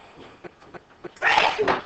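A single person's sneeze bursts out loud and close after a few quiet, scattered sounds in a classroom during a maths lesson.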